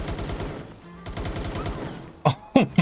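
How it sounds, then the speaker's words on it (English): Rapid bursts of submachine gun fire in the game Palworld, a steady rattling stream of shots that pauses briefly, then resumes and ends with a few louder, sharper single reports. "Submachine gun? There we go."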